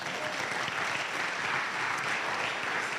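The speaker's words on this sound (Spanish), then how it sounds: "De un aplauso al Señor." A church congregation at an Easter congress claps continuously, a broad steady wash of applause from a large crowd, fairly distant and even throughout with no speech on top.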